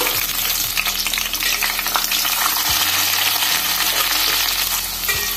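Garlic, green chili and coriander hit hot oil for a tempering ahead of an Agri-style okra and prawn curry, giving a steady, loud, close frying sizzle with faint stirring and clinks, without talk.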